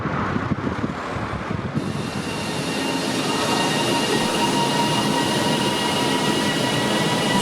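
A Class 331 electric train pulls away from a station on a Bradford Foster Square service, its motor hum and wheel noise rising steadily and close, a continuous growing rumble with no talk.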